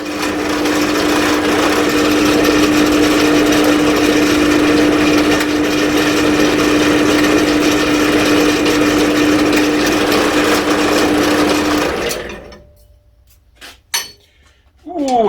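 A drill press runs on metal plates with a continuous steady whine and grinding hum for about twelve seconds, then cuts off into near silence broken by a few brief knocks.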